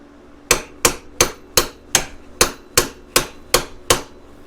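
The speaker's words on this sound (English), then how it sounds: "let's see if we can whack this with a hammer" Ten sharp, evenly spaced hammer blows strike an ATV axle on a 2003 Polaris Sportsman 700, each loud metallic whack ringing close and alone, no talking.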